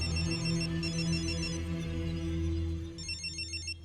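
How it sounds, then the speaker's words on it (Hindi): A telephone rings in repeated electronic bursts over a sustained low tonal drone, the ring pattern pausing mid-way and returning faintly toward the end, with no one speaking. "शायद उसी का फोन है।"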